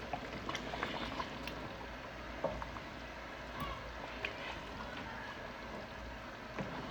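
Potatoes boil in a pot, giving a steady, close bubbling and gurgling wash with small pops scattered throughout.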